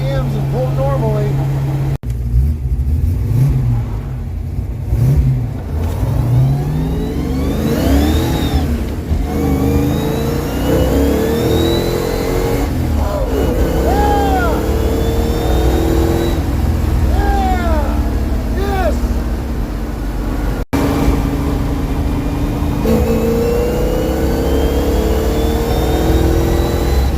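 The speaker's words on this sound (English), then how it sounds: "First full throttle pulls all the way up to red line for the first time in a month" A Ford Mustang project car revs at full throttle up to the red line, its engine loud and close with rising pulls, while people talk over it.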